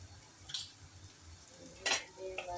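Ingredients sautéing in a pan for a curry with fenugreek and drumsticks, a faint low sizzle broken by a couple of brief scraping stirs and clinks.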